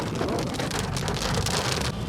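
Heavy rain pours down in Dandeli in a dense, steady hiss, loud and close, with no voices.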